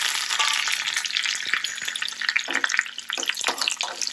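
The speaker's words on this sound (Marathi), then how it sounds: "त्याच्यामध्ये 1 पाव चमचा जिरे घालून घ्यायचे आहे आणि त्याच्यामध्ये हे 2 लाल मिरच्या आणि कढीपत्त्याचे काही पानं घेतले आहे हे घालून घ्यायचे" Cumin seeds, two red chillies and curry leaves hit hot oil for a South Indian coconut chutney tempering, crackling and spitting in a loud, dense sizzle with sharp pops, close up and without talk.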